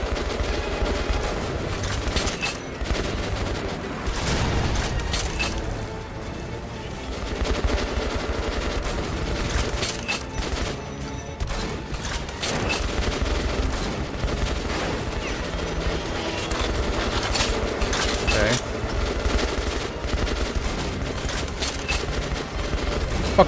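Constant loud gunfire in the video game Metro: Last Light, rapid bursts of automatic fire and single shots piling up into a dense, unbroken barrage with no pauses.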